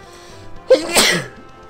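A single sharp sneeze bursts out loud and close to the microphone, with a quick intake and explosive release, then fades into quiet.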